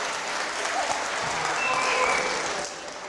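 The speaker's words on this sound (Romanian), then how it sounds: "dați-i un rând de aplauze" A conference audience claps in steady, dense applause for a few seconds, filling the room evenly without a break.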